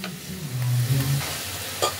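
Carrots fry in ghee for carrot halwa, giving a low, continuous sizzle under busy stirring and scraping in the pan, with one brief clatter near the end.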